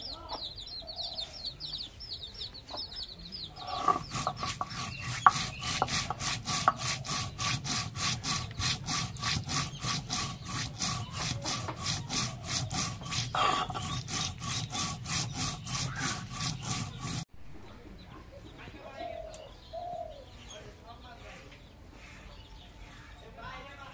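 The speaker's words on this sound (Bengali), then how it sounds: "এখন জিরা রসুন পেঁয়াজ বেটে নেই" Rhythmic scraping and rubbing as cumin, garlic and onion are ground into a paste on a grinding stone, steady strokes for most of the clip, with hens clucking nearby and some talk in the background.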